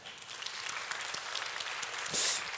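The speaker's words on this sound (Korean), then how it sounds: "박수 소리가 좀 마음에 안 들긴 하는데" A short burst of applause from a church congregation, a steady patter of many hands clapping at moderate volume, with no talking over it.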